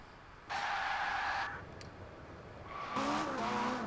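A Ferrari 458 engine swapped into a Toyota GT86 in Forza Horizon, heard as two bursts of revving engine tone with a rising pitch near the end, fairly loud over a steady background hum.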